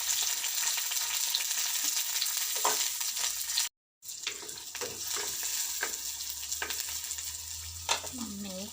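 Rampe, curry leaves and onions are dropped into hot oil and crackle in a loud, steady sizzle. A short pause is followed by sharper spattering pops and occasional stirring clinks, and there is no talking.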